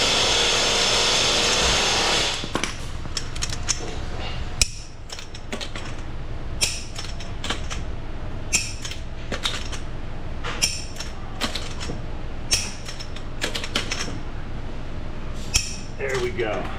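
A click-type torque wrench tightens lug nuts on a Ford F-150 2.7 EcoBoost at the roadside, producing a string of sharp, separate clicks over steady background noise, close by.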